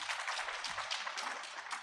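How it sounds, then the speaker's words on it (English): A conference audience applauds for honored panelists, dense steady clapping from many hands filling the room without a pause throughout. "give them another big round of applause"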